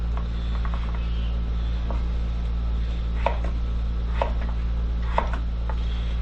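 Food chopped into about 1-inch cubes on a board, giving sparse, light knife taps spaced irregularly over a constant low hum.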